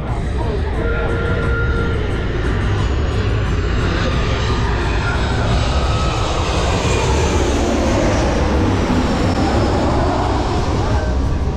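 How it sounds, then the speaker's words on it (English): An airplane passes overhead during a glass-bottom boat tour off Jamaica, a loud, steady engine roar blended with wind and water noise that holds throughout. "the airplane in the back"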